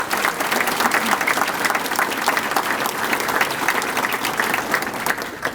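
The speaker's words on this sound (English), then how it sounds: "please give a round of applause to these amazing individuals" Steady applause from an audience at a mayor's Good Scout breakfast honouring scouts in Quincy, a dense, even wash of many hands clapping close by for several seconds without pause.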